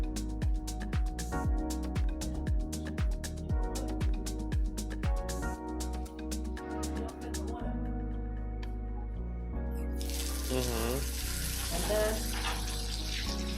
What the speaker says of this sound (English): A pipe carries away the hot water while fresh cold water keeps flowing in.